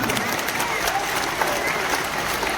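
A large crowd at a religious gathering claps in thanks, dense continuous applause filling the space evenly from start to finish, with a voice faintly present underneath.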